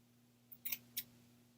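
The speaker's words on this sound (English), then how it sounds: "I'm just going in between the two scallops and just trimming" Scissors snip paper between two scallops while trimming petals for a paper flower: a few quick, crisp cuts close up against a faint steady hum, with no talk.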